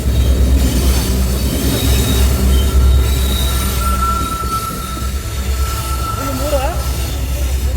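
A train passes near the Dudhsagar Waterfalls trek route with a loud, continuous rumble and wheel squeals, and people talk over it.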